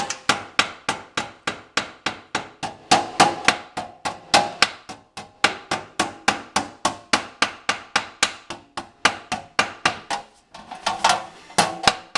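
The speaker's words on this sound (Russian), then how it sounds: "Немножко молоточком подбиваем." Rapid, steady small-hammer taps on sheet metal while assembling a round duct tee fitting, dozens of sharp ringing strikes in a regular rhythm, close and fairly loud, with a brief pause near the end.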